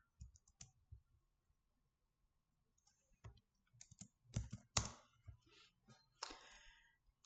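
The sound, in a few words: typing on a computer keyboard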